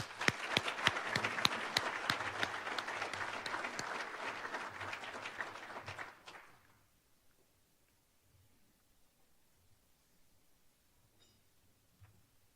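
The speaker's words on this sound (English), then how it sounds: "Please give her a round of applause." Applause at an alumni awards celebration for an honoree, with crisp individual claps from a modest crowd for about six seconds before it stops abruptly, leaving near silence with faint stray sounds.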